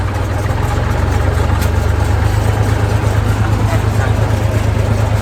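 An IMT 539 tractor engine runs in third gear during baling work. It gives a loud, close, steady low rumble with an even throb throughout.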